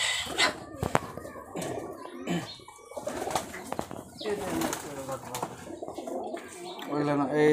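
Highflyer Giribaz pigeons coo repeatedly at close range, soft throaty calls overlapping with wing flaps, bird chatter and people talking nearby.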